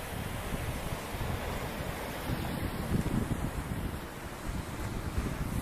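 Sea waves break on the shore at a beach in Recife, a steady broadband wash of surf mixed with wind buffeting the microphone, continuous and fairly close throughout.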